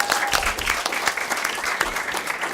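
Audience at a Calexico Unified School District board meeting applauding a ninth-grade Student of the Month from Calexico High School, steady clapping filling the room at moderate loudness with no talk over it.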